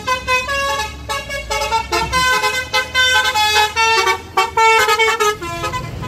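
Indonesian tour bus passing on a busy road during the holiday return rush, blasting a loud musical multi-tone horn in a long melodic run close by over engine rumble.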